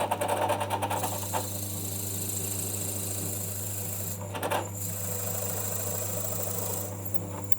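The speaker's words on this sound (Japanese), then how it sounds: "こういうドリルがあるので丸い棒ができるので" A power drill whines steadily and grinds through maple at close range, cutting a round dowel, the pitch dipping briefly as it bites, with a constant motor hum underneath.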